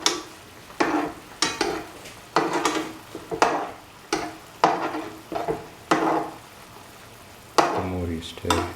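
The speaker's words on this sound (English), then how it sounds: "Keep on stirring." Cucumber, yogurt and coconut mixture stirred in a pot, a spoon scraping in steady repeated strokes roughly every half second to second, close and fairly loud, with a brief clatter near the end.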